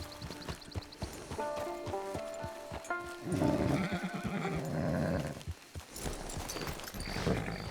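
A horse in Red Dead Redemption 2 whinnies with a rising, wavering call, joined by clip-clopping hooves and shuffling, with another whinny near the end.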